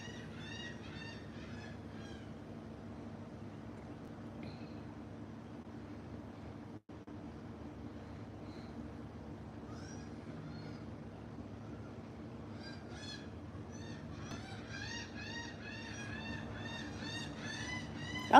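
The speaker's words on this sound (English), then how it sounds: "The birds have been out recently." Birds call outdoors beside a backyard pool on a hot Florida day, their repeated, warbling chirps coming in bursts throughout over a steady low rumble of background noise, with no one talking.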